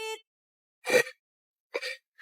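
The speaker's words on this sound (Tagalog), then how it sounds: "ubong-ubo na ako kasi nakakahiya ang tahimik ng klase" A few short, harsh coughs come close to the listener, separated by silent pauses.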